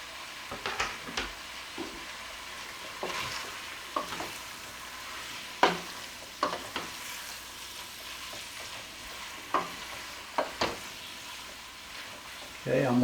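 Hamburger meat and chopped onion sizzle softly while browning in a pot, a low steady crackle broken by occasional scrapes and taps of a stirring spoon.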